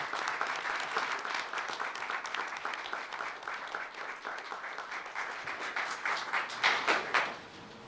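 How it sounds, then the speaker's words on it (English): Audience applause at a regular board meeting, a dense, sustained roomful of clapping that holds steady for several seconds before tapering off. "Let us give them a round of applause."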